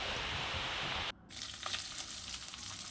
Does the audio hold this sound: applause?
no